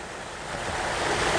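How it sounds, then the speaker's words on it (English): Several backyard pool waterfalls splash and rush together in a steady, full, broadband wash of falling water that swells slightly louder toward the end, with no voices. "the four waterfalls together make a wonderful, rich, restful sound as the party continues"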